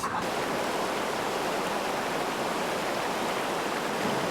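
Steady, dense rush of a flowing river, close and full, continuing evenly without pauses and with no voices.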